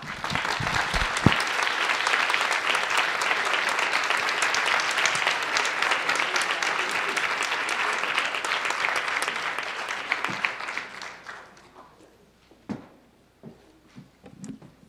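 A lecture audience at a university talk applauds guests in a long, dense, loud round of clapping that holds for about ten seconds before tapering off to a few isolated claps and small room noises.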